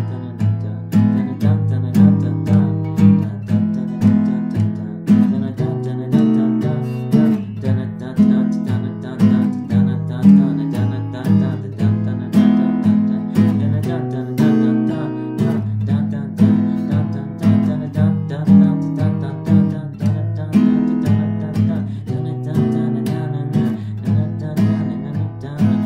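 Acoustic guitar strums steadily through the verse of a song, a dense, even rhythmic pattern that fills the whole stretch at a close, constant level with no talking.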